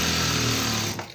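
Sewing machine stitching a chudidar, a fast dense mechanical whirring hum running loud and steady, then easing off and stopping near the end, close by with no talking.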